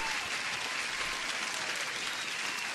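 Dense, steady applause fills a livestream moment, a continuous wash of clapping at even loudness from start to finish, with no distinct voices standing out.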